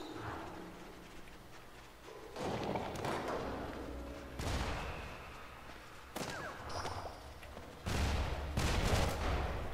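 Bomb explosions in the Badland video game, several heavy bursts arriving at irregular intervals, each a loud broadband crash that decays into rumble, with quieter ambient sound between them.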